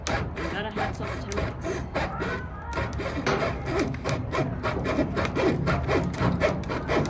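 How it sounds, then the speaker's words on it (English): A hacksaw cutting pipe for a chicken feeder in a busy Home Depot store, making repeated back-and-forth rasping strokes at close range while voices and store noise carry on underneath. "get a hacksaw, aisle 14"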